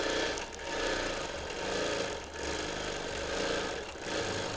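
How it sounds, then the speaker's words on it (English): A sewing machine free motion quilting over fused appliqué areas of a Christmas table runner, running in a steady continuous whir with a few brief slowdowns, close and moderately loud with no talking. "when I stitch over these fused areas, this is where I'm slowing down and stitching with care"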